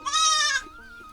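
A single loud, drawn-out goat bleat rings close by at a rural char homestead on Ashtamir Char in Bangladesh during the monsoon, then fades into a quieter yard ambience with faint later calls.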